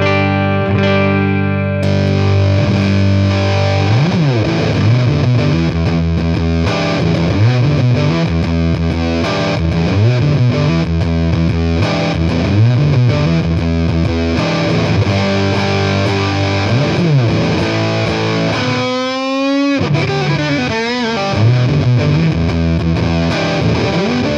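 Electric guitar riffs played through an Electro-Harmonix Big Muff fuzz pedal, loud and thick with distortion, sustained chords and repeated picked phrases throughout, with a brief pitch slide near the end and no talk.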